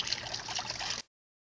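Water trickles out of a soaked canvas British Forces Millbank filter bag, a steady close dribbling patter that stops abruptly, leaving silence.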